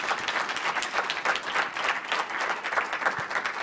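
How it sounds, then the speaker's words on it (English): Audience applause at a scholarship event fills the room, dense steady clapping from a crowd that stays sustained and fairly close throughout with no talking over it. "You all clap it up for the Littlewits and Magnetar Capital one more time."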